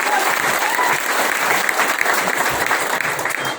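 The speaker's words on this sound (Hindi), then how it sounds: "अर्जुन सर के लिए जोरदार तालियां होनी चाहिए।" Steady applause from a crowd, continuous clapping at even volume throughout with no pauses.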